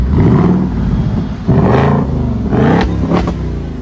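A 2024 Ford Mustang GT V8, started by remote with nobody inside, idles with a deep, loud rumble and blips its throttle in several quick revs close by.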